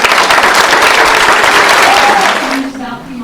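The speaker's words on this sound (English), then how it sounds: "Can we give our graduates a round of applause?" Loud, dense round of applause from an audience at an adult high school and equivalency diploma graduation ceremony, sustained clapping that fades out near the end with a brief voice.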